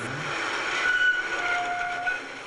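A Rhein-Haardtbahn train rolling along with a steady rumbling roar, joined by thin high-pitched squeals from the wheels on the rails.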